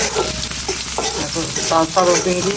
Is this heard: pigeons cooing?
no